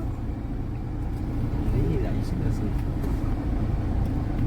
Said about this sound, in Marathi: जाम ट्रॅफिक लागले रे.